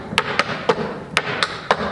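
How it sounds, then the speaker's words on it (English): Tap shoes work through drag and brush steps on a hard floor, six sharp, bright taps in a loose, uneven rhythm, close and clear with no voices. "we just learned drag brush steps"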